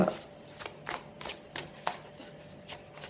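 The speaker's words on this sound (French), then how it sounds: "je vais prendre une carte" Tarot cards being shuffled and drawn by hand, a run of quick, soft papery riffles and flicks in an irregular rhythm, close and fairly quiet.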